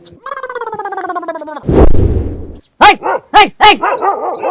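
A dog barks loudly nearby, with a whining, drawn-out vocal and a rough gargling burst followed by four quick, sharp barks in a row.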